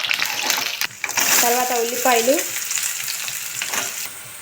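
Dried red chillies hit hot oil for a wheat rava upma tempering, producing a loud, close, continuous sizzle while a person speaks over it.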